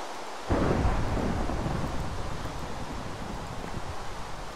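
Rain and thunder in the Minecraft video game: a steady, dense hiss of rainfall with a deep rumble that swells in early and continues underneath throughout, with no voices.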